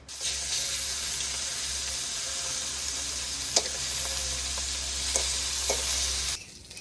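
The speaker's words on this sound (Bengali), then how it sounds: "বাকি কাঁকড়াগুলো আবার ভেজে নেব" Crabs fry in a pan for a crab posto dish, a loud, even hiss of hot oil sustained for several seconds with a few sharp spatters and clinks, then cutting off abruptly near the end.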